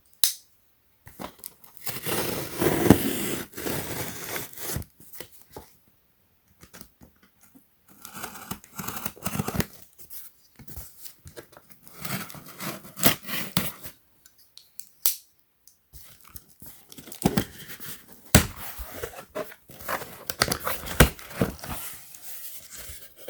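Packaging being cut and torn open while unboxing an LED flood light and camping sleeping bags, with bursts of close crinkling, ripping and cardboard handling separated by short pauses.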